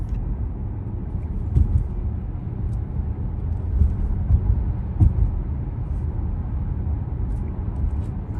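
Modified Audi S4 B8 with a supercharger cruising under moderate throttle, a low steady engine drone and road rumble heard from inside the cabin, even and unbroken, with no talking.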